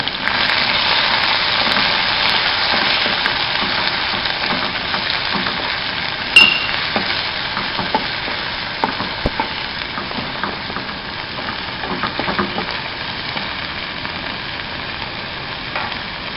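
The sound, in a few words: crushed onions sautéing in a pan for Kerala fish curry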